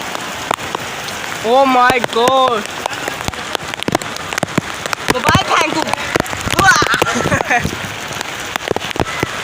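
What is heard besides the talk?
heavy rain falling in Karachi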